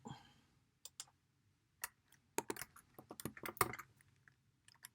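Sparse computer keyboard clicks as a shortcut is pressed: several isolated taps, then a quick cluster of sharper keystrokes, close and fairly quiet with no talking.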